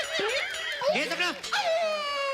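A voice imitates a dog, wailing and whimpering in rising and falling howl-like cries for a couple of seconds, close and fairly loud, on a studio comedy show.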